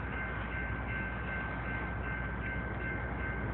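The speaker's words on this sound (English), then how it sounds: "Here at Dudley for a southbound grain train." CSX southbound grain freight train approaching at Dudley, a steady low rumble and broad wheel noise filling the scene, even and continuous with no horn standing out.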